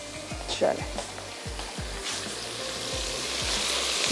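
Chicken fries in a pot with bay leaf, giving a steady close sizzle with repeated stirring scrapes and a faint voice in the background.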